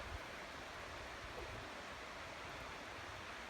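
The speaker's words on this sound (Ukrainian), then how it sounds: "Чути водоспад." A waterfall on a two-day hiking trail to Pip Ivan Chornohirskyi in drizzly weather, heard as a steady, dense broadband roar of falling water, constant and fairly near, with no voices over it.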